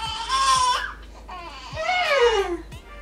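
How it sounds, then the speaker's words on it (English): A newborn baby cries and wails in rising and falling bursts, fairly close, with a low steady hum underneath. "If y'all hear a baby in the background"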